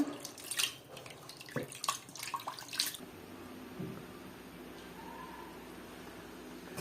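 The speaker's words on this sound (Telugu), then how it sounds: "బాగా మటన్ పీసెస్ని 4 సార్లు కడుక్కుందామండి." Mutton pieces being washed in water for curry splash and slosh up close in quick bursts, then a tap runs in a steady, gentle stream with faint trickling.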